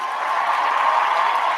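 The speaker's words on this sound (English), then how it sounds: "we'll give a round of applause to the combatants that fought before that" A fight-night watch party crowd gives a round of applause, a dense, steady wash of clapping that is loud and sustained, with no voices standing out.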